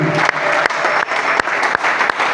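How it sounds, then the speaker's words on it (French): A church congregation claps loudly and steadily at a morning prayer service, a dense continuous applause with a few sharper clap accents and no voices over it. "Est-ce qu'on peut acclamer la parole de Dieu?"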